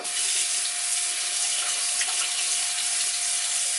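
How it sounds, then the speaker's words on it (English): Water runs steadily from a bathroom tap while a facial cleansing spa brush is rinsed under it, a close, continuous hiss and splash with no talking. "So then I'll rinse it off and then I'll keep going."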